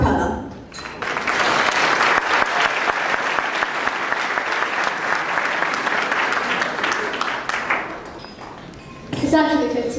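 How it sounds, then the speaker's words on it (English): An audience at a New York City honoring event for a music teacher breaks into loud, sustained applause that swells and carries for several seconds, then tapers off as voices come in at the end. "give her a round of applause for Jamile,"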